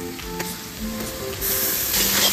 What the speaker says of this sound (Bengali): এবার রসুনের কাঁচা গন্ধটা যতক্ষণ না যাবে একটু ভেজে নিতে হবে।